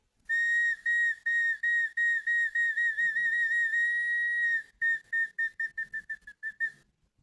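Replica Andean micro whistle being blown, a piercing high steady tone in long sustained blasts, then a quick run of short staccato toots, close and loud with nothing else heard.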